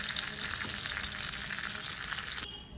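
Fish, a kokila khoyra, sizzling as it fries lightly in hot oil: a dense, even crackle held close for almost three seconds, easing slightly near the end, with no voices.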